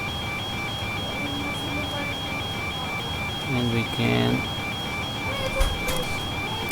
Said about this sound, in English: let's stop with that annoying alarm